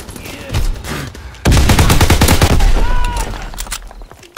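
Loud, rapid automatic gunfire from the Call of Duty WW2 beta, with dense bursts of shots and a pause, plus a brief voice partway through.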